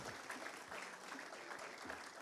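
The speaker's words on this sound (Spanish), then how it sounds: "Despidamos a Mundo con un fuerte aplauso" An audience claps for a departing guest at a local chronicler's talk in Cadereyta, the applause moderately faint and somewhat uneven, swelling in a few brief bursts.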